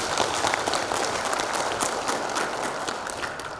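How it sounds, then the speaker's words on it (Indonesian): A crowd applauds steadily at an excise tax outreach meeting in Malang Regency, many hands clapping together in a sustained, even burst with no voices standing out. "Tepuk tangan."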